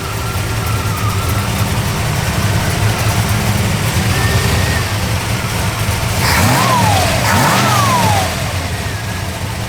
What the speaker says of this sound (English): Nice little rumble.